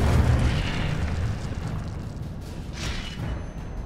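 An Incendio fire spell is cast in the Hogwarts Legacy video game, producing a loud fiery whoosh and rumbling burst that fades over a few seconds, followed by a softer flare.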